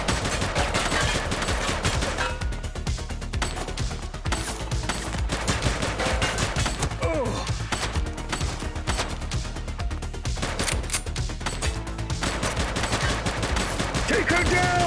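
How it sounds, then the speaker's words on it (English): Heavy, sustained gunfire bursts through a police shootout in The Precinct on PS5, with rapid automatic shots overlapping throughout amid game sounds and occasional voices. "He's shooting!"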